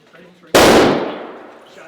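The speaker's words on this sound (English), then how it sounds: "Shots fired. Shots fired." A single loud, sharp gunshot bang during an active shooter training drill, with a sudden onset and a long decaying tail, preceded by faint background voices.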